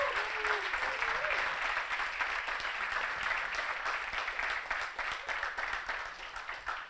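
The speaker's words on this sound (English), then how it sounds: "Big applause." An audience at a conference day session breaks into continuous applause, a dense even wash of clapping from many hands that holds steady for several seconds, moderately loud with no speech over it.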